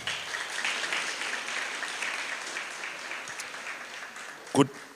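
A crowd claps steadily in a university lecture hall, a sustained round of applause that slowly fades, with a single sharp knock near the end.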